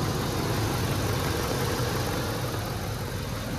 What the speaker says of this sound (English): Engine sounds good, no knocks.